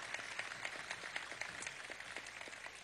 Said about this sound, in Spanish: vamos a darle un aplauso al vicepresidente ejecutivo,